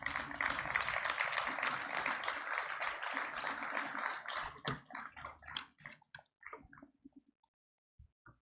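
A dense crowd applauds at a business launch event in Nigeria, sustained and fairly loud for several seconds before thinning out into scattered individual claps and fading to quiet.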